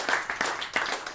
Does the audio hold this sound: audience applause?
yes